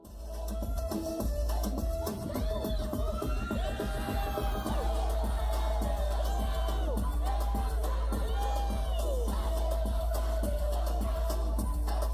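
A K-pop concert crowd cheers wildly, with loud sustained roaring, whoops and high-pitched screams that continue without a break from start to finish.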